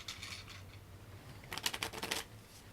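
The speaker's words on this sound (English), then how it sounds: "Give the deck a good shuffle for me, please." A deck of playing cards is shuffled, with a faint rustle early on and then a brief, crisp run of riffling flicks near the end, quiet and close, with no talk.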